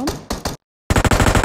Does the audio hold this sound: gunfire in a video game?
yes